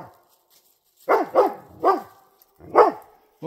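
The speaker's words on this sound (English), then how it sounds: "I think you're barking at nothing." A dog barks in four or five sharp, close, loud woofs, spaced unevenly after a short quiet opening, with a faint whine between them.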